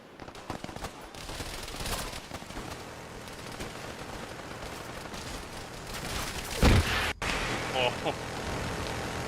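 Gunfire in the Arma 3 military game, with dense bursts of shots running through the whole stretch over a busy battlefield background, and a sharper, louder burst near the end; a voice talks at times over the shooting.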